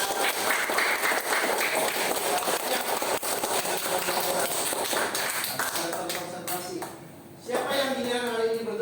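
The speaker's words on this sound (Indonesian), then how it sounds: "Nah, tepuk tangan semuanya." A group claps hands together in a dense, sustained patter that runs for several seconds before fading out, followed by people talking.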